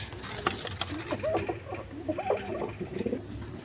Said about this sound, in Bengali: দুইটা মসলদম কবুতর